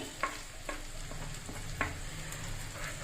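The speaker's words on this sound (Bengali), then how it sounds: "আমি দিচ্ছি এর সাথে পেঁয়াজ বাটাটা দিয়ে আমি একটু কষিয়ে নেব" Onion paste and spices sautéed for a fish curry produce a soft steady sizzle, punctuated by a few quiet, spaced scrapes of a spatula against the pan.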